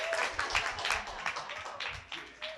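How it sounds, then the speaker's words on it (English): Applause from the audience at a startup event, with steady, moderately distant clapping and no break. "So give a big round of applause for all Tails Wagging and Jamie."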